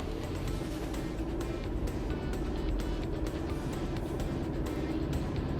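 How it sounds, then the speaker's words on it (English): A 4x4 in two-wheel drive with traction control off struggles in sand, its engine droning low and steady with broadband rumble and faint scraping ticks, fairly quiet and continuous without talk. "let's see how far we get in two-wheel drive in the sand"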